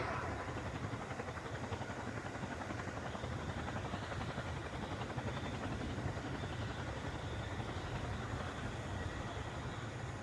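Military transport aircraft with two 5,000 horsepower Honeywell engines flying at an airshow display, giving a steady, dense, distant rotor-like drone that holds evenly throughout.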